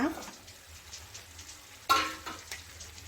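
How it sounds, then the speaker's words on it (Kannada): Chicken gravy simmers over a low stove flame with a soft, steady sizzle, broken by a sharp clatter and a few brief scraping stirs near the end. "ಸ್ಟವ್ ಫ್ಲೇಮನ್ನು ಸಿಮ್ಮಲ್ಲಿ ಇಟ್ಕೊಂಡು ಇದನ್ನು ಒಂದು ಹತ್ತು ನಿಮಿಷ ನಾವು ಸಿಮ್ಮಲ್ಲಿ ಬೇಯಿಸ್ಕೊಳ್ಳೋಣ"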